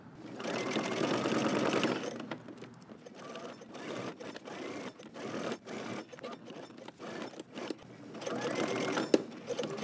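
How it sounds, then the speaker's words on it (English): A sewing machine runs a long basting stitch across a jumpsuit collar, with steady motor whirring in bursts broken by short pauses and a final backstitch near the end; close and fairly loud, no talking. "make sure you change your regular stitch to a basting stitch, which should be the longest stitch on your machine"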